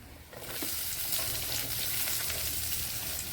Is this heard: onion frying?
yes